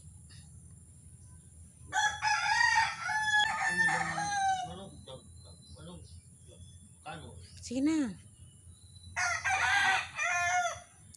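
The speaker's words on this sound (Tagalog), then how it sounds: "Manok" A rooster crows nearby, then again later, between bursts of speech in a quiet outdoor setting with faint insect hum.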